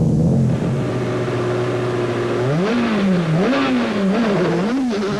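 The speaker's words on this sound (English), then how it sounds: "the new Africa Developments Polo of Japie van Niekerk and Gerard Snyman was the first car to tackle the slippery marbles" A Volkswagen Polo rally car on a slippery gravel stage at the Tour Natal rally holds a steady engine note, then revs hard, its pitch rising and falling through gear changes. It is loud and close, with no talk.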